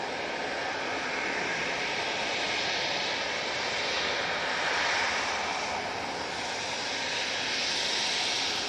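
An easyJet airliner's engines roar steadily at Manchester Airport, a loud, continuous broadband rumble and whine that swells slightly midway, with no voices.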